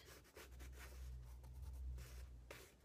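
Soft scratchy strokes of an Inktense pencil shading across paper, several short repeated passes over a low steady hum.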